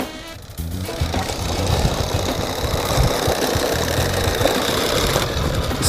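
A New Bright 1:10 scale Bigfoot RC monster truck drives with a steady, buzzing electric motor whine and rattling, continuous and close throughout, with no talking.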